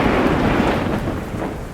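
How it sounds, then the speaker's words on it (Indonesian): A loud, deep rumble of thunder rolls continuously, broad and booming, with no voices present. "Suara petir yang sangat keras terdengar"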